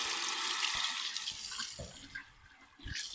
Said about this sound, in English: Another quick rinse.